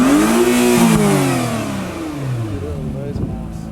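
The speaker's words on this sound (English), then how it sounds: "give it a rev" Honda Acura NSX supercar engine revs loudly up and then winds down, a single rising and falling sweep of engine tone close by, with voices faintly present toward the end.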